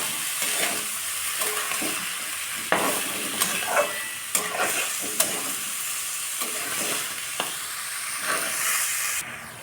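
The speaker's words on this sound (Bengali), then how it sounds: "মিনিট খানেক চাল আর ডালটাকে শুধু সাঁতরে নেওয়া হলো।" Soaked rice and masoor dal sautéed in a pan for khichuri, giving a continuous soft sizzle and hiss with regular scraping strokes from the spoon, close and moderately loud throughout.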